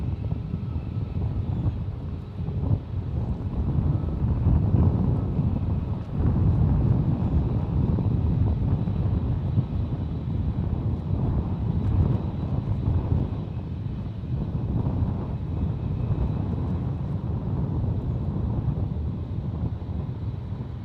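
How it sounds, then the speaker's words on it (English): TAP Air Portugal Airbus A330-900neo airliner on short final at San Francisco International, a low, steady engine rumble with wind buffeting the microphone, swelling slightly as it passes. "Short final, we have TAP Airlines, TAP Air Portugal 237 coming in from Lisbon, an A330-900 Neo."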